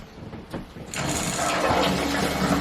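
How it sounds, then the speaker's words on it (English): Water rushing through newly repaired plumbing in an off-grid dry cabin after a check valve fix, a soft splash at first then a steady, fairly loud flow that builds and keeps running with no voices. "So we now will have running water."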